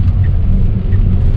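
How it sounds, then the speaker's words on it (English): Tesla Model X accelerating under driver input, a loud, close low rumble of car motion and road noise, steady and heavy through the short moment. "I'm hitting the accelerator."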